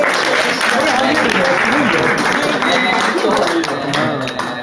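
Loud, dense audience applause after a talk, continuous clapping with crowd voices and chatter mixed in, tapering slightly at the end.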